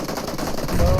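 Rapid automatic gunfire in a shooter video game, a dense, loud, continuous burst of shots filling a short moment.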